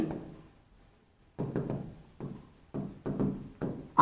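A math formula is written by hand, heard close up as short bursts of scratchy pen or chalk strokes with brief pauses between them, preceded by a near-silent gap.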